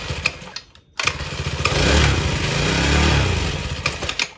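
A tiny kid's motorcycle engine sputters, then catches and runs roughly on choke, a close, buzzy idle with uneven surges after a brief silent gap.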